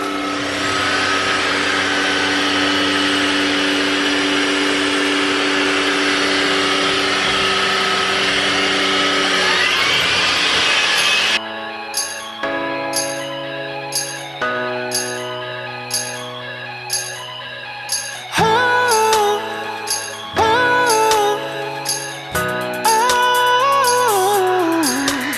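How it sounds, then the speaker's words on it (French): A household vacuum cleaner sucking scented powder off a floor, its steady loud drone running alone for about ten seconds, then giving way to a chopped, stuttering pattern of short bursts and tones. "j'ai mis la poudre par terre et je vais simplement venir aspirer ça et faire tout mon ménage"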